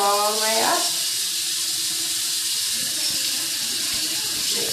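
Lukewarm water runs from a tap for cleaning upper and lower dentures, a steady, even hiss heard close up after a brief voice at the start.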